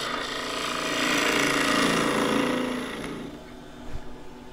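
Gouge undercutting a green elm crossgrain tube on a wood lathe, a loud continuous rough cutting roar that swells through the middle, then eases to a lighter scraping with a brief knock near the end.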